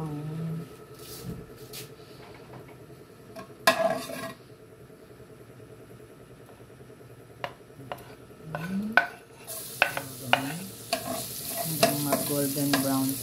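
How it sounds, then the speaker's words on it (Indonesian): Garlic sizzles in a hot pan while being stirred for Filipino menudo, with a steady fry under scraping and clinking of a utensil against the pan. "golden brown po ang ating garlic."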